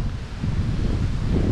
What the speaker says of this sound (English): It's a bit windy, right, isn't it?